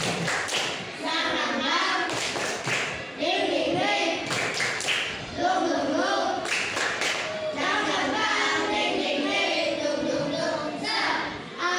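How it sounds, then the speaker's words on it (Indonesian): A classroom of children performs a rhythmic spirit clap, sharp claps and taps landing in patterned bursts mixed with chanting voices, close and loud throughout. "Satu kali tepuk semangat."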